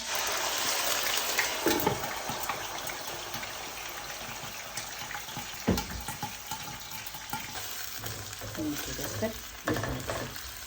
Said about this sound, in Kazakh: 100 грамм сұйық майымызды құйып, жақсылап қыздырып, етімізді жуып қуырамыз